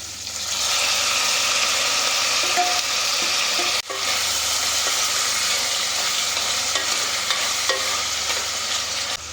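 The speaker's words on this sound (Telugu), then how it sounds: "కొంచెం ఉల్లిపాయ పచ్చిమిరపాయ మగ్గితే సరిపోతుంది ఇప్పుడు టమాటాలు వేసుకుందాం" Tomatoes cooking with onion and green chilies in a hot pan give a loud, continuous sizzle, with a brief dip partway through and light stirring sounds underneath.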